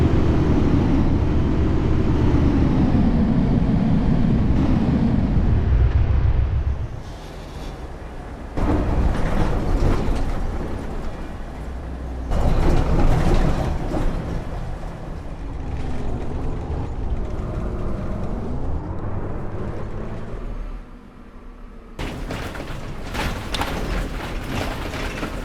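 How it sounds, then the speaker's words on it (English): A bus in a bus simulator video game bumps over a curb, giving loud mechanical rattling and clunking over engine drone, interrupted by abrupt cuts and shifts between repeated takes. "Let's talk about hitting a curb."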